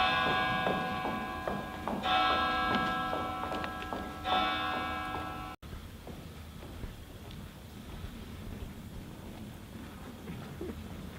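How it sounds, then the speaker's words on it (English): An alarm bell rings out during a stage performance of Macbeth, with repeated clanging, resonant strokes that hang in the air for several seconds before cutting off into a dull background. "Ring the alarm bell!"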